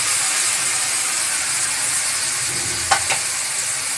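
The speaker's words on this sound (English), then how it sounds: "Now it's time I put in my fish, all of it inside." Fish pieces fry in a spiced pan with a steady, close sizzle and hiss throughout, and a brief scrape of stirring near the end, with no voices.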